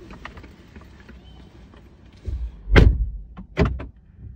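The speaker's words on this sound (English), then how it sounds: "Don't slam the door either." A car door being shut while parked at a drop-off spot: a solid thump near the middle, then a couple of smaller knocks and rattles afterward, close by against a quiet car interior.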